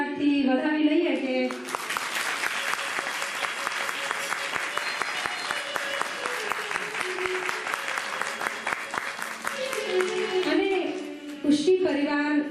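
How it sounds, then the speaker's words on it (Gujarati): Thunderous applause from an audience at a Kanka Abhishek gathering, a dense sustained wall of clapping lasting about eight seconds, with talk heard before it begins and after it fades. "અમે તો એટલા બધા તાળીઓથી ગડગડાટથી વધાવી લઈએ"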